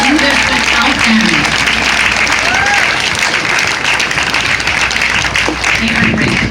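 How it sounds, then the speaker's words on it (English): Crowd applause rings out at an outdoor sand sculpting festival on Revere Beach, loud and sustained clapping with voices and chatter running underneath it the whole time. "let's give them a huge round of applause"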